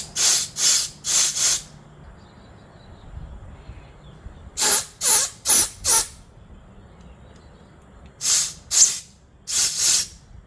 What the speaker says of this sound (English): we're going to connect to the air compressor line and blow a bit of air through these